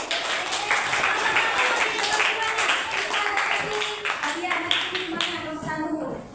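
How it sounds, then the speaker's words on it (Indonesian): Children in a classroom clap together in quick uneven bursts, fairly close and loud, with young voices chattering and calling out over the applause. "Kita beri tepuk tangan untuk kelompok 1."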